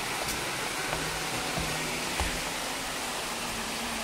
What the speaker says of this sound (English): So this is the little creek, the little waterfall